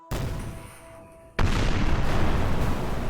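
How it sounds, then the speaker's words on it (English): A tabletop horror role-playing session's sound effect delivers two sudden, loud booms in quick succession, the second giving way to a sustained deep rumbling roar like shaking ground, with no speech. "the whole ground just starts shaking. And you hear explosions."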